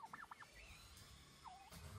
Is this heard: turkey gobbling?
yes